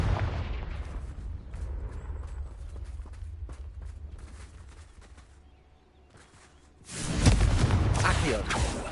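A Confringo fire spell in Hogwarts Legacy bursts into a loud, roaring explosive blast near the end, after a stretch of rumbling combat noise with thuds and scattered impacts.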